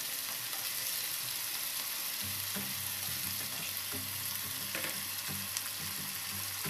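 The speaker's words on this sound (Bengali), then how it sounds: "তো সেই চিকেনটা দিয়ে আমি একটু ফ্রাই করে নেবো হালকা করে।" Chicken pieces lightly fry in a pan for a Bengali red chicken curry, a steady broadband sizzle with occasional stirring scrapes and soft clinks, close and continuous with no talk.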